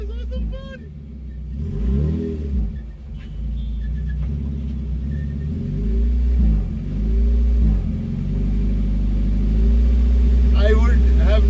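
A modified mid-engined Suzuki Swift drifts in donuts, its engine revving up and down in repeated swells with rumbling exhaust and tire noise, loud and close throughout.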